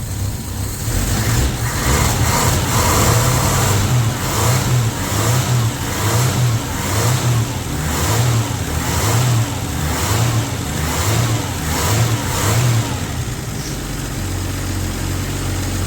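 A 1965 Plymouth Valiant 100 engine runs close by on its own fuel system, revving up and down in a regular rhythm of about a dozen rises before settling toward idle.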